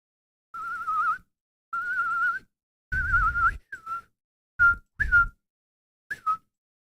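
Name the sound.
person whistling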